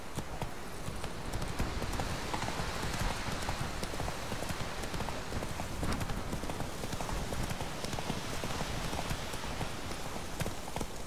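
A horse gallops in The Witcher video game, hooves pounding in a dense, rapid, continuous rhythm at close range without pause.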